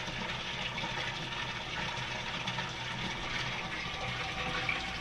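Water drains steadily from an aquaponic grow bed, a faint continuous gushing and trickling rush with no breaks, heard up close without talk.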